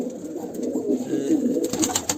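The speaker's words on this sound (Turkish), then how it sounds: "tezgahlardaki kuşları görüyorsunuz" Pigeons coo at bird-seller stalls in a Turkish bird market, soft rolling calls close by that repeat through the moment, with faint chatter and market bustle behind them.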